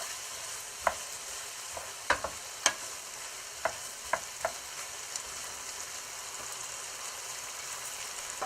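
Okra sizzling and frying in a pan, with a steady hiss broken by several sharp clicks and scrapes from stirring, no talking.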